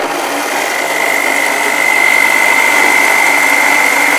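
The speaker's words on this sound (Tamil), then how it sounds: "திருப்பி அரைச்சிக்கலாம்" A mixer grinder grinds an herbal mixture with milk, a steady, loud motor whine with a constant high pitch that holds throughout and swells slightly partway through.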